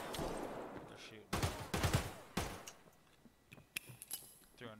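Gunfire in the shooter game Escape from Tarkov on the Interchange map: a dense burst of rapid shots up front, then scattered single cracks and short volleys trailing off over a noisy background.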